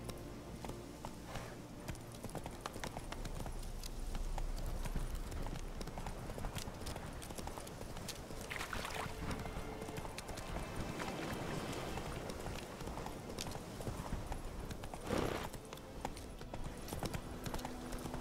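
Roach, a horse in The Witcher 3, galloping with steady rapid clip-clop hoofbeats, a continuous rolling rhythm at moderate distance over game ambience.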